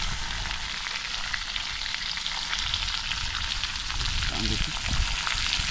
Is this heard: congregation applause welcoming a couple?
no